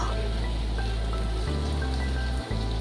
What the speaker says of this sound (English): फिर एक और बारिश वाली सुबह।